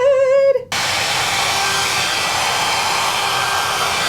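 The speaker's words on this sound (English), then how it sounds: "I'm muting the sound of the blow dryer now" A John Frieda Hot Hair Brush dryer switches on and blows with a steady, loud roar for several seconds after a brief moment of other sound at the start.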